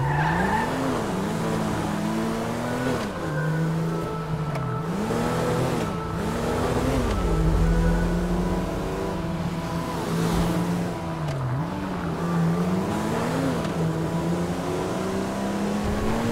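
A car in Grand Theft Auto V circles a city block, engine revving up and down through repeated gear changes with tire squeals, loud and steady throughout with no talking.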